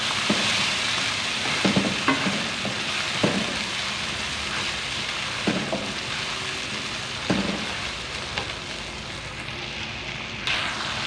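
Garlic ginger paste sizzles steadily in a hot pan for a mixed vegetable salan, with a few soft scraping stirs now and then under the constant frying hiss.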